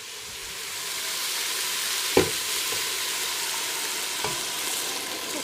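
Wine bubbles and sizzles steadily as it simmers and reduces in a pot while a utensil scrapes and stirs it a couple of times.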